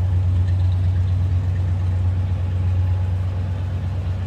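A 1970 Cadillac DeVille Convertible with a 472 V8 and Turbo 400 automatic idles steadily, heard from behind the car as a loud, deep, even rumble that holds without revving.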